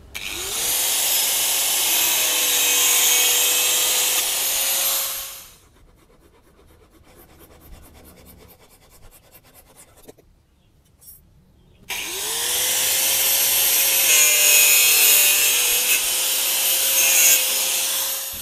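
Steady back-and-forth hand sawing through plastic pipe, loud and close, stopping for a quiet pause with faint clicks before the sawing resumes.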